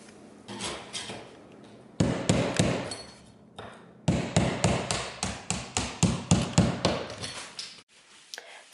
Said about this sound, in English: Really all I used was a chisel and a hammer.